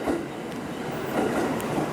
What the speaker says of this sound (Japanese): そしてサンダーバード30号の入線です。